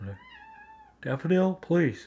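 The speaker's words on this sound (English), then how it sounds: "That's my cat" A house cat gives one drawn-out, wavering meow, close and clear, and then a person speaks briefly in the pause that follows.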